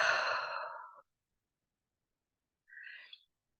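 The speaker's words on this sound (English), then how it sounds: "Take a nice deep breath in and out." A slow deep breath in and out during a guided mindfulness meditation, a long soft exhale followed after a pause by a shorter breath, close and quiet with no talking.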